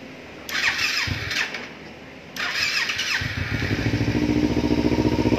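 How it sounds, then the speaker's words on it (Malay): A motorcycle engine being started, with the electric starter whirring twice in short bursts before the engine catches and settles into a loud, close, rapid idle that holds steady. "Lepas tu kita terus start enjin."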